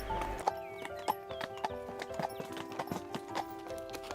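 Hooves clip-clop in a steady, even rhythm as a horse walks through mountain hills, close and moderately loud, with a faint jingle of tack alongside.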